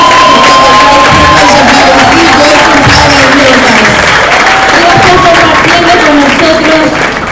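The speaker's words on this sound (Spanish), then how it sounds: "un fuerte aplauso" Conference audience applauding and cheering after a guest from Thailand is introduced, loud and continuous throughout, with shouts and voices mixed into the dense clapping.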